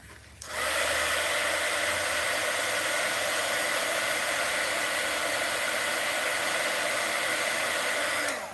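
A hair dryer switches on and blows steadily over wet paint in an art journal, a loud, close whooshing hiss with a constant motor whine, running unbroken for about eight seconds.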